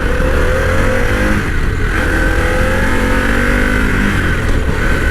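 A Harley-Davidson Pan America Special motorcycle engine, a loud close roar that rises and falls slightly as it revs and holds steady throughout, with no voices.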